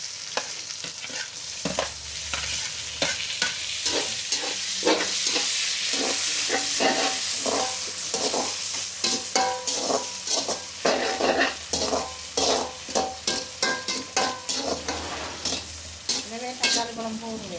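Tomatoes frying in a pan of duck curry, steady sizzle close by with repeated scraping stirs of a utensil against the pan, growing more rhythmic toward the end.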